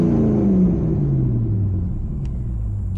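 A Ferrari race car engine rumbles low and loud up close, its tone sliding downward as it settles after a rev, with a faint whistle near the end.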